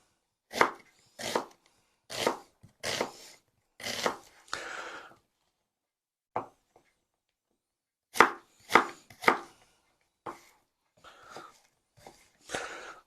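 Onions being chopped with a knife on a board, a quick run of about five close, crisp strokes, a pause, then another burst of chops and a few lighter taps, with no voices.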